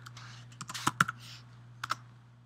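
Scattered keystrokes on a computer keyboard as text is typed, a handful of crisp clicks bunched in two short bursts over a faint steady hum, close and fairly quiet.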